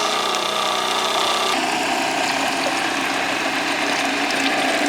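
A paint roller spinner whirls paint off a roller into a bucket, producing a loud, steady, close mechanical whirring and rattling drone that holds constant throughout, with a slight shift in tone partway through.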